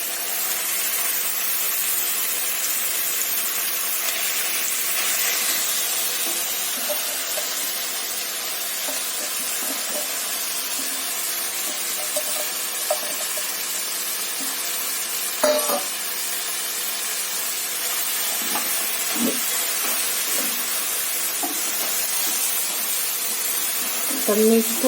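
Fenugreek greens sizzle steadily in a hot pan for a long stretch, a continuous hissing fry with occasional stirring clicks and scrapes, while someone talks over it.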